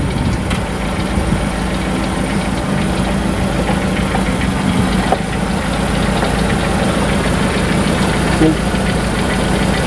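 A used car's engine idles steadily at a used-car showroom, a continuous mid-low rumble running throughout with faint background voices.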